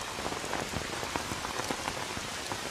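Heavy rain pours down in a continuous, dense hiss with the patter of drops striking a surface, loud and close for the whole stretch, with no voices over it.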